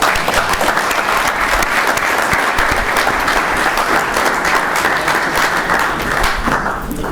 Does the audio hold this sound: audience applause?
yes